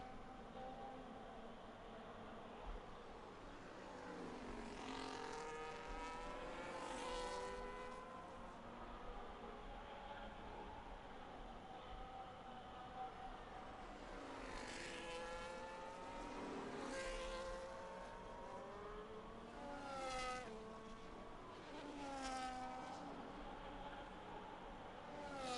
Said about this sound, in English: I'll leave you guys just with the sound of the cars for now.